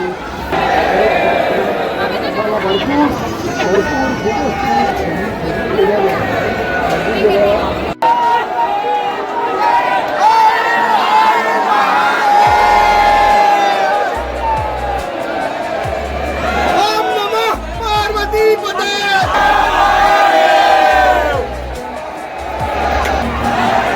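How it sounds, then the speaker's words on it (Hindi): A large crowd of devotees packs Mahakaleshwar temple in Ujjain, with loud, continuous chatter and babble, occasional calls and cheers, and heavy footfalls throughout. "थोड़ा काफ़ी ज़्यादा भीड़ है"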